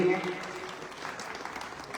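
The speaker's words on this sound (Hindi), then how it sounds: "एक बार इन सभी के लिए आप अच्छी ताली बजा करके स्वागत कर दीजिए" An audience at a religious festival gathering claps together in welcome, a dense, steady wash of applause lasting throughout, with a tonal voice or music trace at the very start.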